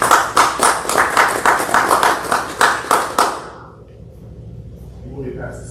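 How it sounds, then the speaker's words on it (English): A room of club members at a morning meeting claps for a guest speaker. About a dozen loud, close, rhythmic claps end abruptly, followed by quiet room noise and a faint voice. "So give her a round of applause."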